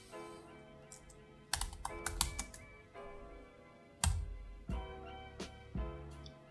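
Computer keyboard typed on close by while entering a terminal command, several quick bursts of clicky keystrokes with short pauses between them, quiet and without talking.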